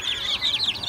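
Chickens clucking on a poultry farm during deworming, a quick run of high, repeated clucks and chirps for about a second, close and fairly clear with no talking.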